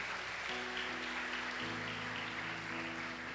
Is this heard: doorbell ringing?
no